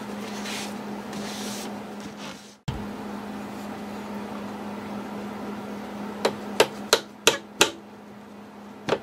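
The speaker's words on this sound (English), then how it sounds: "the holes I drilled helped these brads go in" Several sharp hammer taps drive brads into a 1934 Ingraham Bedford wall clock, five or six close, distinct strikes in quick succession over a steady low hum in a quiet workshop.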